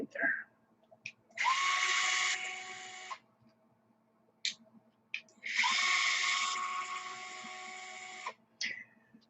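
A power drill twice drives long screws into a mid-motor RC drag race transmission, each run a sustained whine of several seconds, separated by short quiet gaps with brief clicks.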